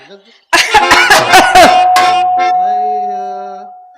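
A person in a Telugu stage drama coughs several times in a quick, loud burst, then lets out a long, fading, strained vocal groan.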